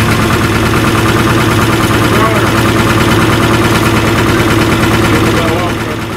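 A 1957 Lima 24 dragline excavator's old engine runs with a loud, steady, rumbling idle that holds evenly throughout and eases off slightly at the very end.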